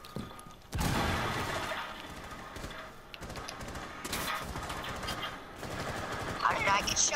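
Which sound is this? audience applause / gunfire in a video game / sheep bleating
gunfire in a video game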